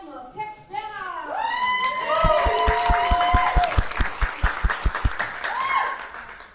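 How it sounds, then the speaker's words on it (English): Audience at an old west melodrama stage show breaking into a round of applause after a voice, with sharp clustered claps building, some cheering, then fading as talk resumes. "Make sure you give them a big round of applause"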